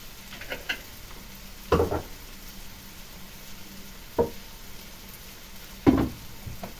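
Chopped onions fry in a pan as part of a cabbage filling for varenyky. A soft, constant sizzle sits under a few sharp spoon-stirring scrapes spaced a couple of seconds apart.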